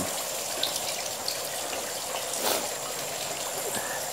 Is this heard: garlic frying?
no